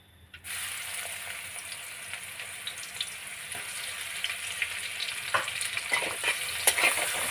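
Onion tempering sizzles steadily in extra oil while stirring, a loud continuous frying hiss with scraping clicks near the end.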